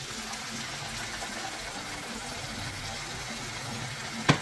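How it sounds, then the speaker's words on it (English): Tomato paste dissolved in a cup of water is poured into a pot of red borscht, making a soft, steady watery rush at low volume, with a small clatter at the end. "Here I have dissolved tomato paste in a cup of water, so I'll pour it here."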